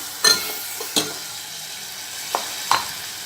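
Vegetables sautéing for sambar make a steady background sizzle broken by four short scraping strokes of a stirring spoon, close and moderately loud, with no talking.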